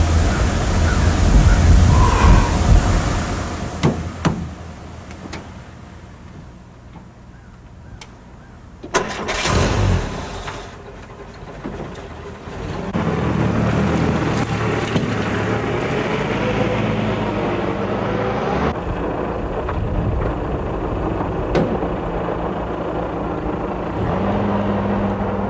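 A vehicle door shuts and the engine cranks and starts, then settles into a steady running and driving drone for a brake road test, from a 1983 US Army auto mechanics training film.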